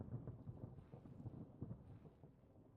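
Thunder from a close lightning strike in the video game Vintage Story rumbles low and continuously with rain noise, faint and sustained throughout with no talk.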